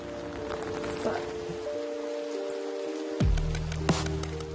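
Steady rain hisses on a street in Heidelberg, a continuous wash of falling drops with faint tonal hum and music-like lines running underneath.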